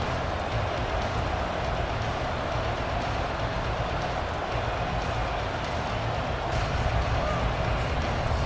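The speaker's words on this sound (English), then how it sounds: "The rain set to continue as we are underway in the second half." Steady rain falls in a football video game, a constant broadband hiss that holds evenly from start to finish with no breaks.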